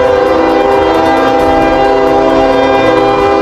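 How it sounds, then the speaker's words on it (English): A loud, sustained train horn blares steadily over heavy rumbling of rail machinery, close and continuous with no voices. "go back to my cab and tell Fuller I stopped the train"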